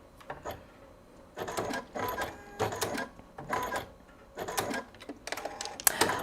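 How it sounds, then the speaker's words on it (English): A sewing machine chain-stitches a run of soft quilting fabric pieces in several bursts of whirring separated by short pauses, close and fairly quiet. "I'm just going to chain stitch all of these at once"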